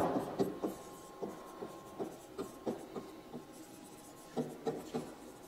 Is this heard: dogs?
no